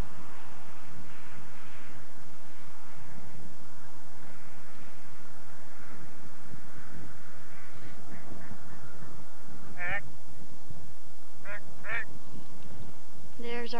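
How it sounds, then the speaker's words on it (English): A duck quacks a few times in short bursts outdoors, near enough to stand out over constant wind noise and people talking in the background. "There's our duck."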